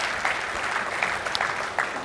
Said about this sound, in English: You can clap hands for this one.